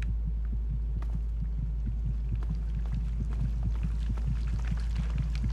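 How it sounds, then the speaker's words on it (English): A steady heartbeat thumps in the Fallout 3 video game, slow regular low pulses repeating over a constant deep hum with no voices. "Oh, I thought that was my heartbeat for a sec, but I think it's his."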